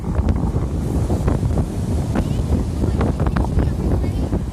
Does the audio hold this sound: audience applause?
no